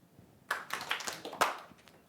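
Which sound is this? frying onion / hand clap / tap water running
hand clap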